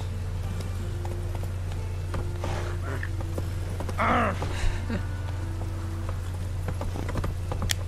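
Steady clip-clop of horse hooves in the video game The Witcher 3 over a constant low hum, with a brief creaky shuffle midway and no voices.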